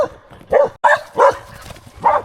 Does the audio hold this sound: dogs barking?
yes